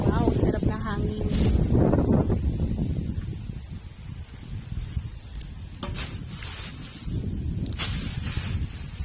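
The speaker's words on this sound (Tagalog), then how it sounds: "Wow, sarap ng hangin." Wind gusts over an outdoor organic farm on a hot day, buffeting the microphone with low rumbling bursts and rustling, while people talk nearby.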